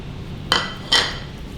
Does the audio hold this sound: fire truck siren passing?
no